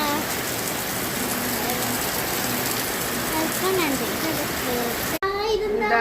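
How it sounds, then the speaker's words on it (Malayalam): Dense, steady hiss of heavy rain pouring down, with children's voices faintly audible underneath; the rain cuts off abruptly near the end. "നല്ല അടിപൊളി മഴയാണ്"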